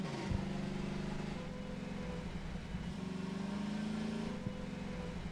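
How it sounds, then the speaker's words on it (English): Car engine droning steadily while driving in Garry's Mod, with tonal shifts as the engine note rises and falls over a constant road rumble, continuous and moderately loud. "Hearing the car engine going, wheels and all of that."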